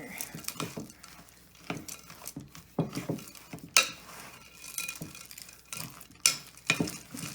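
Chocolate chips are stirred into peanut butter cookie dough in a bowl with a tablespoon, making close, irregular scrapes and soft clunks of thick dough against the bowl, with no talking.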